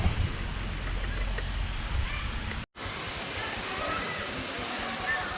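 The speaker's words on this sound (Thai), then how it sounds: "ถึงแล้วน้ำตกภูซาง" Phu Sang waterfall in Thailand gives a steady, broad rushing roar of falling water, with a brief cut to silence midway and faint voices in the background.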